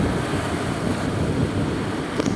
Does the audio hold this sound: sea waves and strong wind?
yes